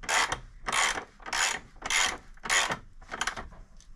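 A spanner ratchets a bolt tight on the rear shock of a Kawasaki ZX6R motorcycle, six rapid, evenly spaced clicking bursts close up with no talking.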